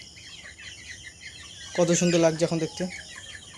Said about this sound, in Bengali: তো খামারে সব দেশি মুরগিগুলো দেখতে পাচ্ছেন